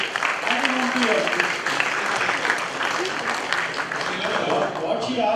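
An audience at a career guidance event applauds a student, a dense steady round of clapping lasting several seconds, with some voices mixed faintly into the crowd noise.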